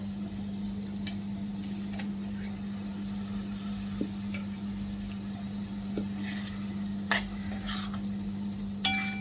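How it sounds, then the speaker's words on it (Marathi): Tomato stirred and fried in a ground masala paste for usal, a soft steady sizzle under a low hum, with occasional spoon clicks and scrapes against the pan and a sharper knock near the end. "टोमॅटो देखील इथे या मसाल्यामध्ये चांगला परतून तो चांगला सॉफ्ट झाला पाहिजे, मऊ झाला पाहिजे."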